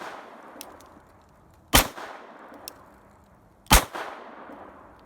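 A Beretta 81 pistol fires .32 ACP rounds: two sharp, loud reports about two seconds apart, each ringing briefly into the room, with faint clicks and quiet handling between them and no talking.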